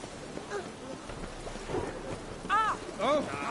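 Steady rain with rumbling thunder in the video game The Witcher 3, a continuous wash of rainfall under which a voice calls out briefly near the end.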